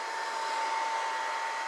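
A hair dryer blows steadily on a paint pour, a constant close airy whoosh with an even, unbroken level and no voices.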